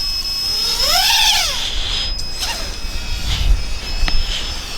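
A JJRC JJPRO P175 FPV race drone whines loudly, its motor pitch rising and falling in sweeping arcs as it flies, then the sound breaks into scattered knocks and bumps as it crashes, alone without talk.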